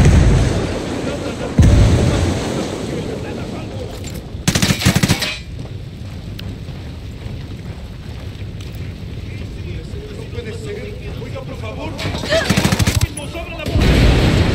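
In Ghost Recon Wildlands, a frag grenade blast and bursts of gunfire ring out in a firefight, with several sharp loud bangs separated by rumbling stretches and a few voices.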